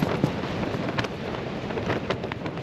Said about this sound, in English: strong winds associated with Storm Darragh, likely leading to some disruption and damage